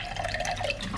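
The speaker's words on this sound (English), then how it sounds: "A little bit of water in here." Water trickles into a shaker cup for a protein shake, a short close stream of pouring and dripping with no voices.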